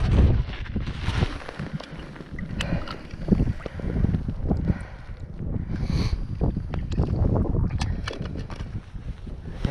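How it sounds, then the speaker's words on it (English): Strong wind gusts buffet and roar across an open frozen lake during tip-up ice fishing, a continuous loud rumbling blast with heavy microphone buffeting and no speech. "that wind is just a whipping again today"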